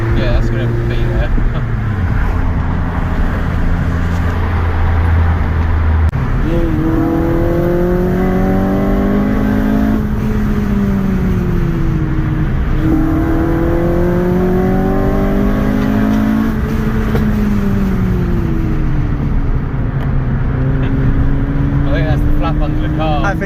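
Honda Civic Type R FN2 fitted with a Piper sports cat and manifold, revved repeatedly in a steady drone with rising pitch sweeps, loud and continuous, with people talking underneath.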